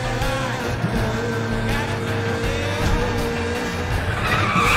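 Street race cars skid in Need for Speed: The Run, with long tire squeals over a steady, loud engine roar and a dense game soundscape throughout.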